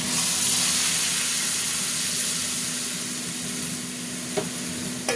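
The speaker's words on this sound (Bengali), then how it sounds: "এবার মশলাটা ঢেলে দেবো।" Ground spice paste of tomato and onion hits hot oil for a rohu fish curry, giving a loud broad sizzling hiss that slowly eases, with a couple of light utensil taps near the end.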